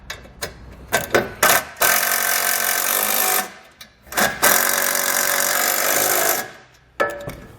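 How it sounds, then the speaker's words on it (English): A power tool snugs down the mounting hardware for a Carr step on a 2016 Ford Transit T250 cargo van, with short bursts of whirring followed by two longer sustained runs, all close by and with no talk. "Now we can go ahead and snug down our hardware."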